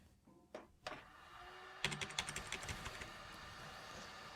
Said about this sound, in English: it says to repeatedly push the escape key on the keyboard